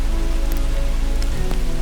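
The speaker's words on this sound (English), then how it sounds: "There's too much rain going on now." Heavy, steady rain pours down during a derecho windstorm, a loud continuous hiss and patter of drops striking a nearby surface, with no voices.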